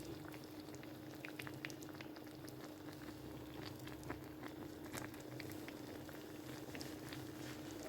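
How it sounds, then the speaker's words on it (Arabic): A fish tagine with olives simmers in its clay pot, giving a steady, soft bubbling and faint popping that runs evenly throughout at low volume, with no talking. "هاو الطاجين بدا يبقبق"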